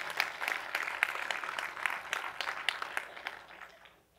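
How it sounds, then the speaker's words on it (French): A church congregation applauds during a French-language sermon, with quick scattered claps forming a moderate, steady patter that thins and fades toward the end. "Est-ce qu'on peut applaudir le Seigneur pour ça?"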